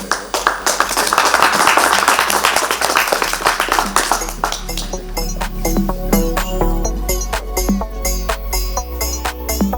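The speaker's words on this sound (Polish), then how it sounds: "Wielkie brawa!" Audience at an award ceremony for the best diploma theses gives a round of applause, a dense burst of clapping that thins into scattered claps over a soft musical background.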